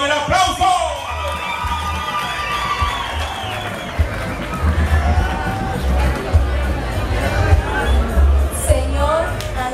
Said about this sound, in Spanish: ¡Vamos con el aplauso!